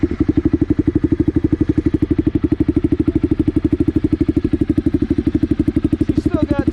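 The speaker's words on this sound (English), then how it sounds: "one more quick off-bike, non-riding sound clip with the baffles in" A motorcycle fitted with an SC Project exhaust, baffles in, runs with a loud, close, steady burbling pulse, each exhaust beat evenly spaced throughout.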